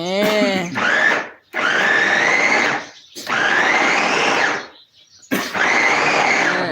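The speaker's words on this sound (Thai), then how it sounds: "ไอ้โจ๊กกำลังปั่นปลาทูนะคะ" A blender whirs loudly in four separate bursts, each several seconds long with short pauses between, as it purees boneless mackerel flesh.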